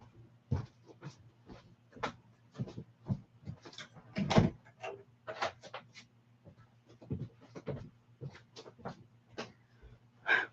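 An office door is handled, closed and locked: a long string of sharp clicks, knocks and rattles at uneven intervals, fairly close and separated by quiet gaps over a faint low hum.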